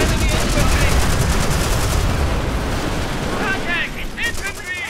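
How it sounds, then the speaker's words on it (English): Sustained rattling gunfire from a Company of Heroes World War II battle, Battle of the Bulge mod, dense and continuous throughout with bursts layered over one another and faint chirps of shell or radio sounds near the end. "We are taking fire. Engaged in combat."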